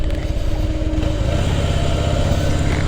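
A Harley-Davidson motorcycle on a ride, its V-twin engine loud and close with a steady throbbing rumble and a slight rise in revs, no talking.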